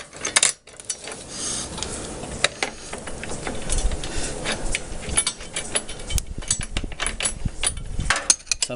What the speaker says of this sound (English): So I've got a 17mm wrench here to screw that into place